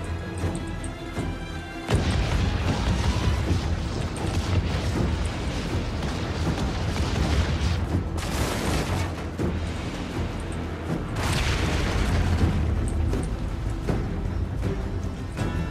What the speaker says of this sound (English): Oh, and it can mortar at point blank.